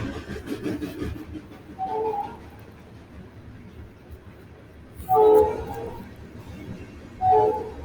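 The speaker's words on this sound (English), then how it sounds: "Train." A train rolls past with its horn sounding in short bursts, three loud honks spaced a few seconds apart over a rumbling, mid-distance rail background, with birds faintly audible.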